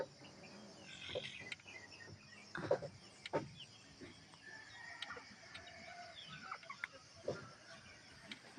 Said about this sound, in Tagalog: Ang among mga manok guys oh.